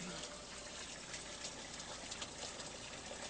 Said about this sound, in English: comes down through these and goes down through the tubes all the way down into the sump